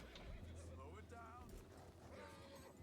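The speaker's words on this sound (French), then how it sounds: "Pourquoi il y a autant de cheval?" Horses whinny and neigh in the open-world western game Red Dead Redemption 2, a couple of drawn-out calls with faint hoof clatter, heard beneath someone talking.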